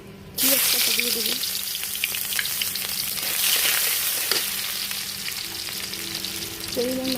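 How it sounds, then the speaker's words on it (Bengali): Chopped onions hit hot oil in a pan for a shrimp and red amaranth curry and start a sudden loud sizzle, which crackles on steadily with faint stirring sounds underneath. "রান্না শুরুতে প্রথমেই আমি পেঁয়াজ কাটা দিয়ে দেবো।"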